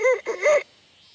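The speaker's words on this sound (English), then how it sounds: "the red jungle fowl sings crows at a higher pitch" A red jungle fowl crows once, a short, high-pitched, multi-syllable call that ends quickly on a brief last note, heard fairly close and clear, followed by faint background quiet.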